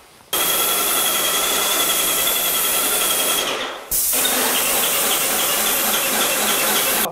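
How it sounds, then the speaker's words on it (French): A low-pressure airless paint sprayer coats a wall with a loud, steady rushing hiss. The spray stops briefly near the middle, then resumes just as strong. "Ce pistolet à peinture de type HEA permet en particulier d'éviter le rechampi"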